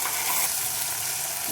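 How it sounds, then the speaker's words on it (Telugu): Green chillies, onion and tomatoes fry in a pan with a loud, continuous sizzle heard up close and alone. "ఇప్పుడు ఇవి కొంచెం వేగిపోయినాయి, టమాటాలు కూడా వేసేద్దాం."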